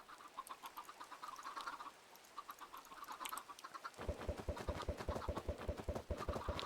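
Clucking and squawking of chickens in the video game Minecraft, a dense, repeated chorus of short calls that grows louder and busier partway through, with no talk over it.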